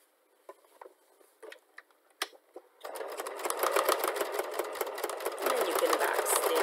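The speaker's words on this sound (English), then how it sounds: "you take out the pin and you sew along this edge here" A sewing machine stitches along the edge of a fabric turban headband. A few quiet clicks come first, then a close, fast, even rattle of stitching runs to the end.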